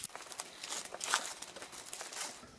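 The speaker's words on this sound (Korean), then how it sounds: "일단 밀봉된 비닐을 제거하고요" Sealed plastic wrap is peeled and crinkled off a Sony WH-1000XM4 headphone box, a close, quiet stream of crackling and tearing rustles with no talk.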